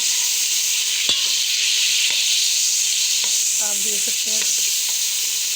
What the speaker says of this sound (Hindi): इसकी अच्छी तरीके से 2 से 3 मिनट के लिए हम ऑयल में इसकी भुनाई करेंगे।